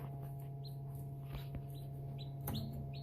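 Baby chicks chirping as they are placed into a terrarium with rocks, giving short high peeps at a moderate distance over a steady low hum, with no talk.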